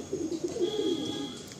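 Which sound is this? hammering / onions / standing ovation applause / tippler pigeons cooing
tippler pigeons cooing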